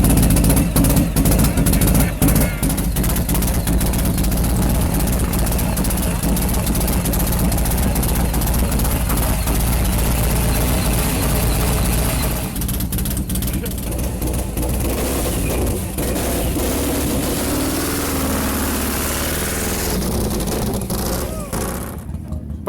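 A motorcycle engine drones steadily and loudly throughout, with rattles and shifts in tone as it rides over bumps and dips at Bonneville land speed racing.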